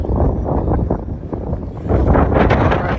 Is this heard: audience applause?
no